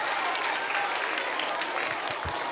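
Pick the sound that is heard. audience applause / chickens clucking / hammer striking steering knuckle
audience applause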